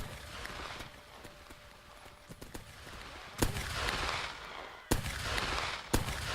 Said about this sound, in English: He tanked the revolver shot.